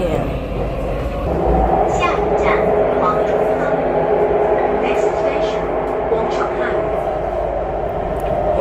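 A train rumbles past below, a steady low roar with rattling over it throughout, close and loud, with people talking over it.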